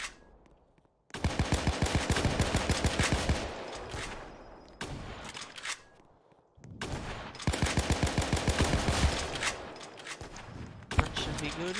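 Rapid, loud bursts of gunfire from Roblox War Simulator, with a pistol-type weapon firing in dense, fast volleys. Two long runs of shots are split by brief quieter gaps.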